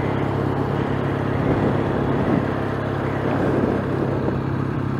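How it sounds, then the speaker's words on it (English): A Triumph motorcycle engine runs steadily close by with a continuous low rumble and faint mechanical tappet clatter, no talk over it. "the camera picks up all the tappet noises and the engine noises that you can't hear when you've got your crash helmet on"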